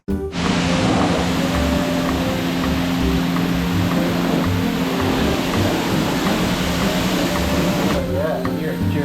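Coin-operated car wash hose blasting water onto a car, a loud continuous hissing spray with a steady mechanical hum underneath, running the whole time and briefly dropping near the end, with some talk mixed in.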